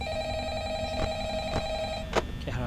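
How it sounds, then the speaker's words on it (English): Telephone ringing in the Five Nights at Freddy's video game, a steady electronic ringing tone with a few sharp clicks and knocks over low ambient noise. "the phone's ringing already"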